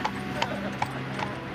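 A horse named Ginger clip-clops along at a steady walk in the Irish countryside, with regular hoof strikes at a moderate distance over a continuous background rumble.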